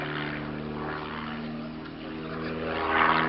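A vintage propeller aircraft's engine drones steadily at air show distance during a slow aerobatic aileron roll at Old Warden, England, with the tone swelling slightly near the end.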